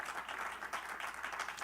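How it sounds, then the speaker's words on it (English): A conference audience claps steadily in a dense, even wash of applause, moderately distant and without breaks. "I want to give him a round of applause"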